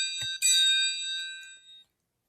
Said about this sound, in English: Here we have the triangle.